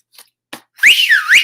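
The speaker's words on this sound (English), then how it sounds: "he let out the loudest whistle Jack had ever heard in his whole life" Loud two-finger whistle in a children's story, close and piercing, a long wavering shrill tone after a couple of soft clicks.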